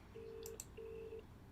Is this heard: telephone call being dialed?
yes